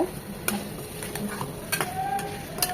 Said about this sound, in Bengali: সিম আলু ফুলকপি খুব ভালোভাবে মিশিয়ে কষিয়ে নেব